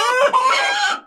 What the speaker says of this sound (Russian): Куры тоже возмущаются.